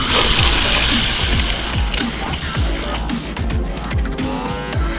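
A Traxxas 4Tec 2.0 VXL RC car on 6S power launching at full throttle with drag-racing foam rear tires, its loud whining motor and gear noise rising in rapid repeated sweeps, close and continuous with no talk.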